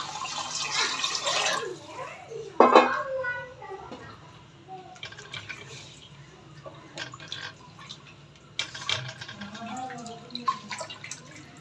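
Hot water is poured into a pan of fried spices, a short, loud splashing hiss right at the start, then softer dripping and liquid sounds while a person talks nearby.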